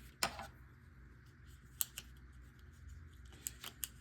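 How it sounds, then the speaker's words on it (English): Scissors trimming scrapbook paper, a few short crisp snips in two small clusters, close and quiet against a soft room background. "I think I'm actually gonna trim this"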